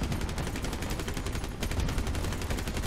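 Rapid machine gun fire from a limo truck in a vehicle combat video game, a dense continuous stream of loud bursts with no speech over it.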